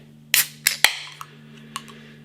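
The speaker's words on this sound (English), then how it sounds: "Nice bit of smoke on the can opening" A can of Glen Affric x Beer Hawk Conquering Mountains NE Double IPA cracked open: a sharp metallic snap and brief hiss, followed by a few lighter clicks and taps, close and loud.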